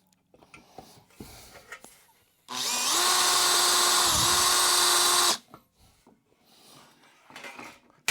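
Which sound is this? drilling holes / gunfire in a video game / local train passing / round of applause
drilling holes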